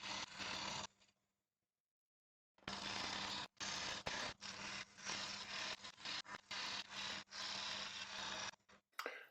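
Wood lathe cutting a bowl of very hard wood and resin offcuts with a pointed carbide tool, giving a loud continuous scraping hiss in long bursts with a brief pause, alone without talk.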